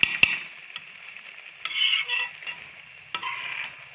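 A spoon stirs grated carrots roasting in a pot for gajar halwa, with soft scraping strokes and faint clinks against the metal, intermittent and close in a quiet kitchen.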